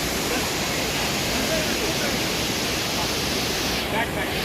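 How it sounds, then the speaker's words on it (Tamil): A waterfall in Munnar, Kerala, with fast-flowing water, roars as a steady, dense wash of rushing water at close range and holds constant throughout. "இதான் காய்ச்சி அந்த வாட்டர் ஃபால்ஸு."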